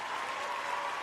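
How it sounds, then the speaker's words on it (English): A crowd applauding at a wrestling event, a dense, even wash of clapping that holds steady for about a second. "I'm gonna give myself a round of applause."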